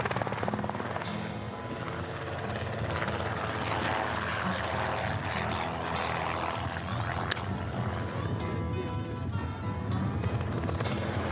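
A helicopter flies overhead during a deer capture, its rotor and engine thrumming steadily and fairly loudly throughout with no talk.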